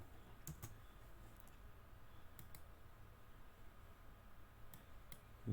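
A handful of scattered, faint keystrokes on a computer keyboard while working in NX and Mastercam 3D modeling software, set over a steady low background hum.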